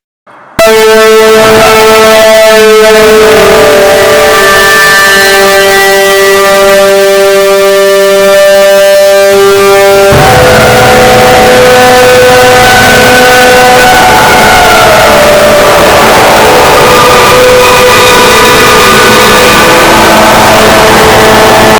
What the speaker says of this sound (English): Metroliners featured shrilling horns such as the Leslie S55s and S37s.